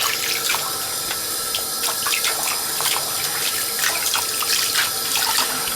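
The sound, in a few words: water running in a sink while washing a controller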